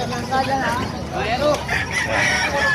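Caged gamefowl roosters, including hatch grey and lemon breeds, crow and cluck nearby in overlapping calls, with the busy sounds of the poultry yard around them.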